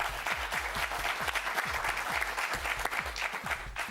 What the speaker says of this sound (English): Sure you get it right, they clap for you.